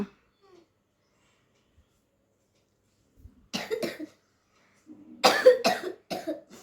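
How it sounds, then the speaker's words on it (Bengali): Harsh coughing in two short bursts, the second louder and with several coughs in a row, after a long quiet stretch. "খুব কাশি হয়েছে"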